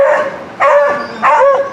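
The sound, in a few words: dogs barking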